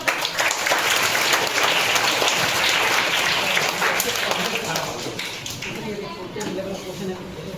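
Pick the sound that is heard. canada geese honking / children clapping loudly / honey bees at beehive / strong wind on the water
children clapping loudly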